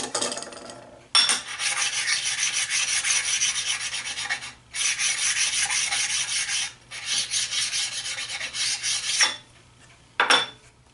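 A part of a two-piece shop-built vice for a hand shaper is rubbed by hand in long, steady rasping strokes, loud and close, with brief pauses between passes and no talking.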